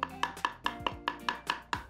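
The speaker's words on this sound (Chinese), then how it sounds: "咁你係咁要剁幾下得㗎啦" A cleaver chops through chicken on a board in about nine sharp, evenly spaced strikes, each a crisp thud with a short ring, close and clear with no talking.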